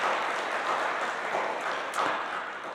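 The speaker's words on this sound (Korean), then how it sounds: "박수 좀 해드려야 되겠네요" Church congregation applauding during a Sunday service, a steady broadband wash of many hands clapping that holds level for nearly three seconds, with no speech over it.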